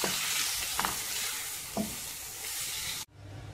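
Boiled chicken cubes are stirred in a frying pan, a steady sizzle with a few soft scraping knocks of the utensil, the sound cutting off abruptly near the end and no voices present.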